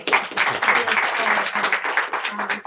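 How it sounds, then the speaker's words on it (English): A modest audience at a local candidates' debate gives a short round of applause, individual claps distinctly audible in a sparse, uneven patter with a voice faintly mixed in. "let's give them a round of applause"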